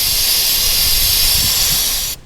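A single long, loud aerosol spray of cleaner on a greasy 1995 Subaru engine hisses steadily for about two seconds, then cuts off abruptly.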